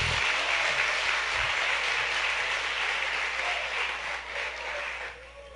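Audience applause at a Christian talk, a dense, steady wash of many hands clapping together that carries on throughout, easing slightly toward the end.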